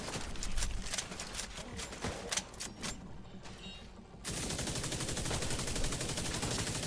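Video game gunfire in quick automatic bursts, loud and dense. It pauses briefly, then resumes as a steady, sustained stream of rapid shots.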